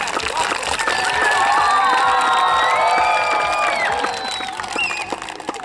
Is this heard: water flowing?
no